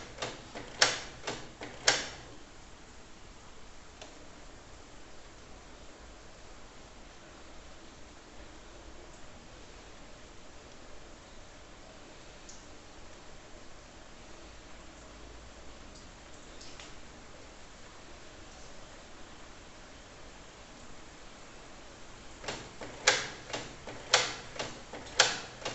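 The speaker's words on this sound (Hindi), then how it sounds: "तो देखिए प्रिंटिंग आपका शुरू हो चुका है" A Canon Pixma MG3070s all-in-one wireless printer starting its first wireless print, with clusters of sharp mechanical clicks at the start and near the end and a long stretch of faint hiss between them.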